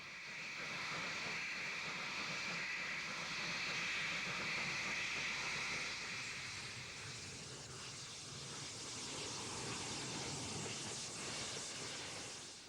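Beyer Garratt articulated steam locomotive hauling a Tarragona to Lerida freight train in Spain, a steady steamy hiss and rumble of the working engine filling the whole stretch, loud and continuous with a slight easing midway.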